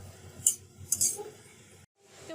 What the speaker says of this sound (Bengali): দেওয়া হয়ে গেলে এগুলোকে নেড়েচেড়ে মিশিয়ে নিতে হবে এবং ভাজা ভাজা করে রান্না করে নিতে হবে।